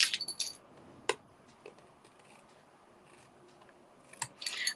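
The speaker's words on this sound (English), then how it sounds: "Oh, it needs a bit of trimming outside as well." Scissors trimming a paper craft piece, with quick crisp snips bunched at the start and end and a single cut in between, close against a quiet background.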